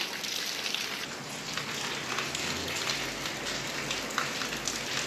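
Steady rain falling outdoors during the monsoon, a continuous dense patter of drops on surfaces at even loudness throughout, with no voices.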